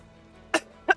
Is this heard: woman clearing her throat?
yes